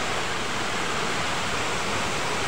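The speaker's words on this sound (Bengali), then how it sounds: "কুয়াশার মতন জল পড়ে, কুয়াশার মতন" A waterfall roars in a dense, unbroken wash of falling water and spray, loud and close, steady throughout with no voices.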